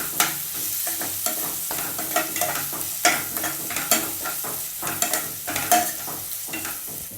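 Vegetables stir-frying with soy sauce and chilli sauce for masala chapathi, a steady sizzle broken by repeated scraping clinks of a spatula stirring in the pan, close and continuous.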